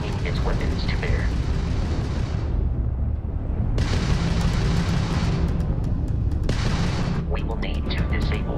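Spaceship weapons pound away in Starfield ship combat against a Crimson Fleet vessel, with dense, loud booming bursts and rumbling blasts in several long volleys broken by short gaps, while a voice speaks over them.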